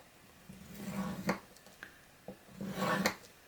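Paper for a 6x6 mini album is scored with a tool in two separate strokes, each a soft scraping rub ending in a brief tap, quiet and close with no talk.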